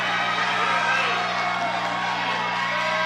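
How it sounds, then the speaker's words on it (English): Arena crowd at a UFC mixed martial arts fight, a dense, continuous roar of cheering and shouting that stays loud and steady throughout. "But this crowd is going crazy here."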